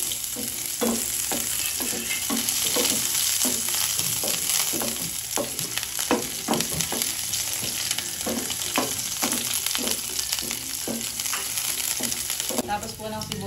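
Onions frying in a pan for a spider-shell adobo, a steady close sizzle with a regular series of spatula scrapes and stirring strokes running throughout, no voices.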